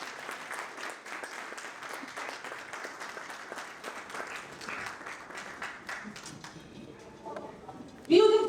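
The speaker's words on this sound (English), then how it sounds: "We can do better with the applause, please." Conference audience applause: a sustained patter of many hands clapping, moderately distant and even, ending with a sudden louder voice at the close.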